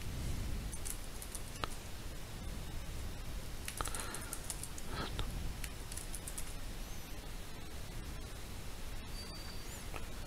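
Typing a comment on a computer keyboard, with a steady run of light key clicks and a few sharper taps over faint background hiss, no voices present.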